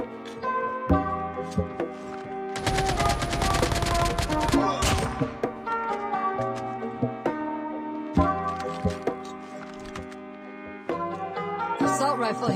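Bursts of rapid assault rifle fire in the Call of Duty Mobile shooter game, sustained for a couple of seconds over tonal in-game music and effects, with brief clicks and shots scattered around it.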